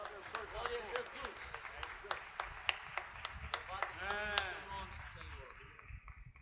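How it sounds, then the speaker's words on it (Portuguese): A church congregation claps in rhythm, sharp regular claps ringing through the hall for several seconds, with a voice speaking over them before the clapping fades out. "as palmas glorificam o Senhor Jesus"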